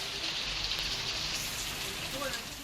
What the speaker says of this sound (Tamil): தருமபுரி மற்றும் கிருஷ்ணகிரி மாவட்டங்களின் பல்வேறு பகுதிகளில் பரவலாக பலத்த காற்றுடன் கனமழை பெய்தது